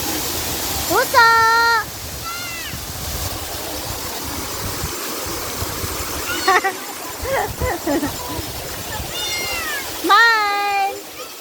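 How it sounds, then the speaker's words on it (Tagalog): A cat meows several times in long, rising-and-falling cries spaced across the scene, over a steady outdoor rumble, with people talking between the calls. "Pusa!"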